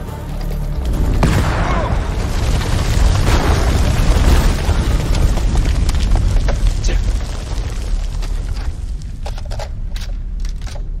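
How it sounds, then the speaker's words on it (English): A grenade detonates in the video game House of Ashes, a loud booming blast with a long rumbling, crackling tail of debris and fire that fades over several seconds. "grenade!"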